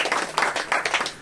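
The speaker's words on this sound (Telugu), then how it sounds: "స్తోత్రం చెప్పి చప్పట్లు కొట్టండి" Church congregation clapping hands in a short burst of repeated, fairly loud claps with an uneven rhythm, no voices over it.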